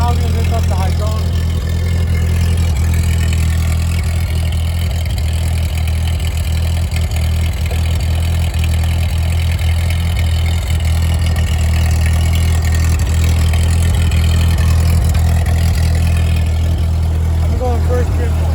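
A 1940 Ford 9N vintage tractor runs with its PTO engaged, a loud, steady low engine drone that holds without a break. A person talks over the noise at times.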